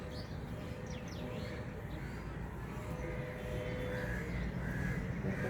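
Several crows caw now and then over a steady low rumble of outdoor background noise on a foggy winter morning, birds perched on wires.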